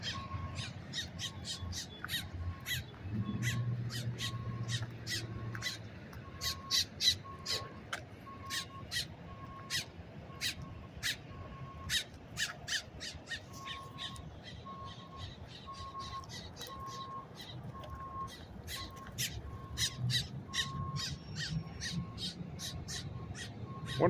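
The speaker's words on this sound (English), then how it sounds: "Are those crows or are those grackles?" Crows or grackles squawk and caw repeatedly outdoors, squabbling over a food item picked off the ground, harsh calls coming in irregular bursts over a steady background hum.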